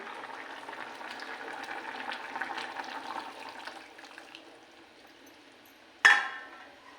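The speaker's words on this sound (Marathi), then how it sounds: "गरम पाणी टाकायचं आहे मला" Hot water is poured into a chicken curry simmering in a home kitchen, heard as steady bubbling and pouring, then a sharp hiss or splash near the end.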